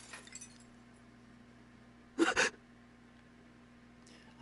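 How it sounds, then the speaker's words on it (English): Glass breaks in a visual-novel game, a single sharp, bright shattering crash lasting about a third of a second, loud against an otherwise quiet, humming background. "Was that the sound of breaking glass?"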